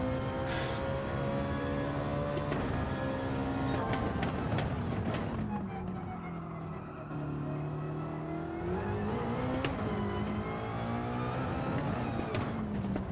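A racing game car's engine revs and shifts through gears, its pitch rising and falling through corners, briefly easing off the throttle midway before pulling again; a voice talks over it in places.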